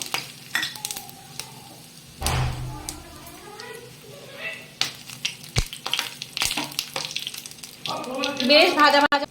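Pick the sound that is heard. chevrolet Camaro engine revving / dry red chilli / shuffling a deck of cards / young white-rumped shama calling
dry red chilli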